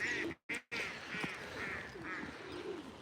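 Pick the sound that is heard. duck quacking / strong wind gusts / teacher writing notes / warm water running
duck quacking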